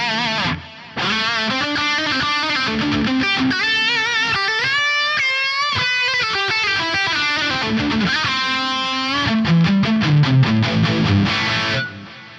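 An electric guitar played through a spicy synth wah effect with dual delay and plate reverb, distorted sweeping notes and chords with trailing echoes, loud and close with no talking.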